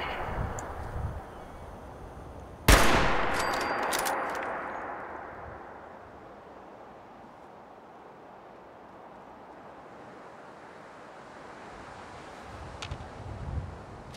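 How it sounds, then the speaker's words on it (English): A single loud rifle shot from the Reba rifle in the game Fallout 4 cracks sharply, then rings out in a long decaying echo over windy ambience, with a fainter distant bang near the end. "We can test Reba. Not really that good, but damn does the shot ring out."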